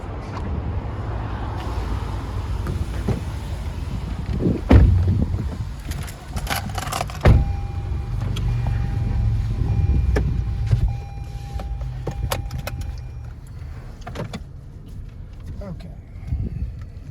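Cabin noise inside a 2022 Toyota Highlander SUV on the move: a steady low road and engine rumble runs throughout, with a couple of brief thumps and faint clicks on top, and no talking.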